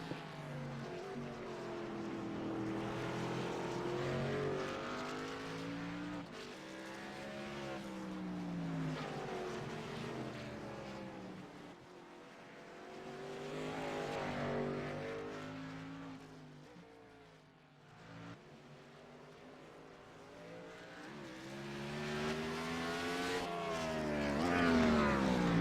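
Race car engines from iRacing at Sonoma Raceway rise and fall through gear shifts as cars accelerate and brake, a continuous loud engine drone with repeated revving sweeps.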